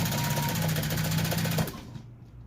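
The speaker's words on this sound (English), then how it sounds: "and now I'm going to sew." Sewing machine top stitching through leather on a jacket facing and shell, a close, steady rapid mechanical chatter that runs for about a second and a half, then stops, leaving a faint background hum.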